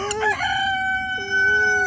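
A rooster's drawn-out crow, loud and near, holding a steady tone before a second rising call begins.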